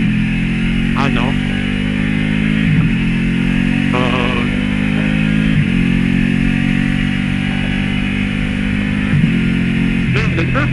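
A Ducati 959 motorcycle engine on an open fun road drones steadily up close, its tone rising and then dropping at several points across the run, like gear shifts under acceleration.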